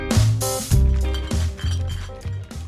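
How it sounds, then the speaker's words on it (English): Glass bottles clinking together in several separate bright ringing knocks, loud and close, spaced about half a second apart with short resonant tails. "Do those clinking bottles mean we're doing champagne or martinis or something?"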